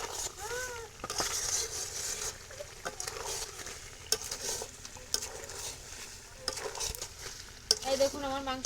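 Broiler chicken with new potatoes sizzles in a pan while being stirred, giving a close frying hiss broken by spoon scrapes and clanks against the pot, with a few brief warbling tones in the background.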